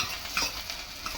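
Hot oil in a pan sizzles and crackles as spices go in for Maggi noodles, a close, continuous frying hiss with a few small pops over a second or so.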